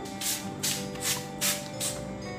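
A spray bottle squirts about five times in a steady rhythm, each short hissy burst close by, over a constant low background hum.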